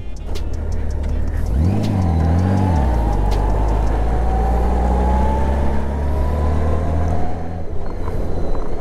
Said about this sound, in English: allow me to ride his 2008 GL 1800 Goldwing